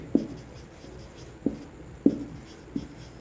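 Marker or chalk writing on a board during a finance lesson, four short scraping strokes spaced about half a second to a second apart, close and moderately loud over a quiet room with no speech.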